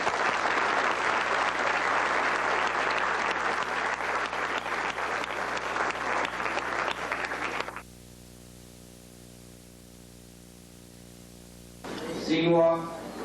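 An audience applauds at a community anniversary celebration, a loud sustained wash of clapping that stops abruptly, leaving a low hum before a brief burst of noise at the end.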